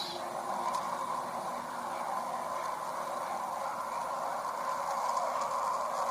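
Recorded sound of the planet Uranus: a steady, hissing wash of noise with a faint hollow mid-range hum, droning evenly without change or pauses.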